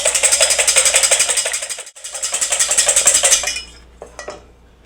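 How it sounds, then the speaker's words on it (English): Eggs beaten hard for an omelette, a fast steady rattle of a whisk or fork against a bowl with rhythmic clinking, a brief pause midway, then a few final taps; close and loud, no talking. "If I beat this more, I get a fluffier omelet."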